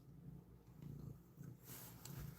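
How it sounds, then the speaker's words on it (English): A soft, low rumbling purr from a cat close by, steady and faint, with slight rustling around it. "Kitty, come back. I want to hear you purr more."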